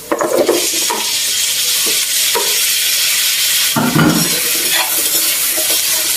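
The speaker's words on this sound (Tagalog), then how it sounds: "Habang ginigisa natin itong ating kalabasa, takpan muna natin." Squash being sautéed with garlic and onion for pinakbet, with a loud, steady sizzle in the pan and a few stirring scrapes and clinks of a utensil against the pan.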